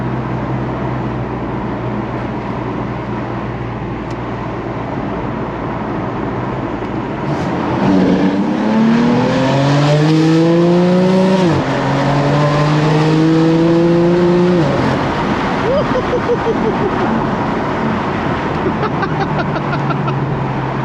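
A BMW M4 engine revs hard in a tunnel, climbing through several upshifts in a loud echoing howl, then settling back to a steady cruise drone.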